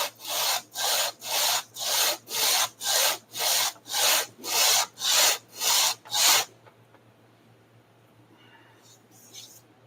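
Sandpaper clamped to a table scrapes paint off a part from a tractor PTO: about eleven loud, even back-and-forth strokes in a steady rhythm, close by, then a quiet stretch with faint handling noises.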